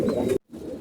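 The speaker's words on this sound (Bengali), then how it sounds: "আমরা কবুতরের বাচ্চা করতেছি" Pigeons kept for raising chicks give a soft, low coo, one short throaty burst that breaks off abruptly before quieter murmuring resumes, close and fairly faint.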